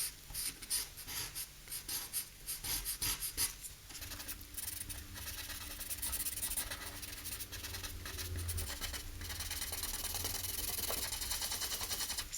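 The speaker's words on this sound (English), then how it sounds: "Some areas I'm completely smudging in, like this one, and then some of them a little bit softer." Graphite pencil smudging and rubbing across paper on a chess drawing, a soft continuous close-up scratching and brushing that grows denser and steadier through the second half, with no talking.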